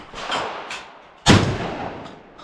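Shotgun firing at a clay target on an outdoor range, a single loud close blast with a long echoing tail, after fainter distant shots earlier.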